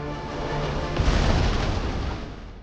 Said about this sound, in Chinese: 已经走远的范尼看到爆炸的火光甚是满意